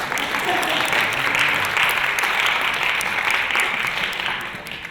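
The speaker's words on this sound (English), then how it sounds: "We can clap." Applause from an audience at a scholarship summit gathering, a loud, full and continuous wash of clapping that stays steady before easing off near the end.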